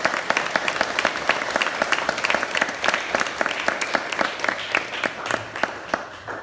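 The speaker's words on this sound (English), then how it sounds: "I think a round of applause before questions." An audience at a professional conference session applauds after a talk on handling conflict. Dense, steady clapping from many hands fills the room for several seconds, then thins and tails off at the end.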